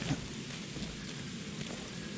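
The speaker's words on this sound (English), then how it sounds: "It's a wet and rainy day." Steady rainfall with a low rumble of thunder in the horror video game The Sinking City, a continuous wet hiss without talk.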